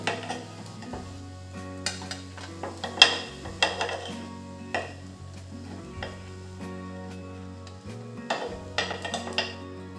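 Fasting-style dhirde pancakes being lifted from a pan onto a plate, with soft sizzling and several light clinks and scrapes of a spatula against cookware, moderately close, no talking.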